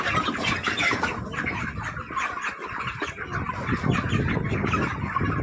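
A crowd of broiler chickens in a poultry farm shed clucks and squawks continuously, many birds overlapping close by in a dense, restless chorus.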